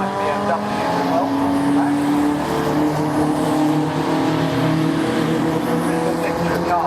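Saloon and sports race cars, Ford Escorts, a BMW, a Seat and a Ginetta, in the CNC Heads Sports and Saloon Championship at Oulton Park, roar past together with loud sustained engine drones and rising revs, heard close with no talk.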